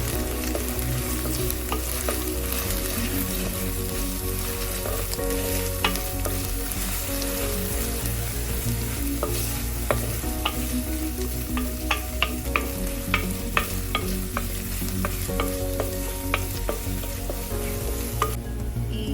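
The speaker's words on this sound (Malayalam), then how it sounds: "ചെറിയുള്ളിയൊക്കെ ഒരു ബ്രൗൺ കളർ ആവുന്നത് വരെ നമ്മളൊന്ന് ഇളക്കി കൊടുക്കണം." Shallots and green chillies fry in a pan for Kerala kudampuli fish curry. A dense, continuous sizzle runs close by while a utensil stirs with scattered light scrapes and taps, and nobody talks.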